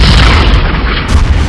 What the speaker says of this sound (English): Pay no attention to the peaceful explosions all around me.